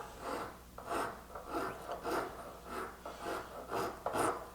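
A hand file rasps back and forth across wood while an iPad stand is shaped, a steady rhythm of about eight close, scratchy strokes.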